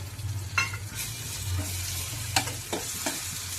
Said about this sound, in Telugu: కొంచెం ఉల్లిపాయ పేస్ట్ కూడా వేస్తున్నానండి.